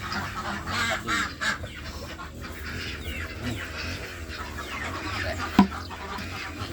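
Ducks at an egg-laying nest quacking and honking faintly in short, scattered calls, with one sharper burst near the end, over a quiet outdoor background.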